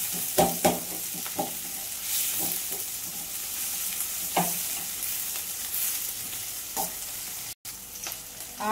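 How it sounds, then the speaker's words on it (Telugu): Chopped onions fry and sizzle steadily in a pan for a fish pulusu with okra, with a loud continuous hiss broken by repeated scraping and clinking as they are stirred. "ఆనియన్స్ ఎర్రగా వేయించుకోవాలా."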